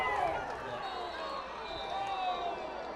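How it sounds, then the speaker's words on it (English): Columbus high school football fans cheer in the stands during a game against Dyersville Beckman, a steady, fairly distant crowd roar that holds for about three seconds. "You heard the Columbus folks over here started to cheer."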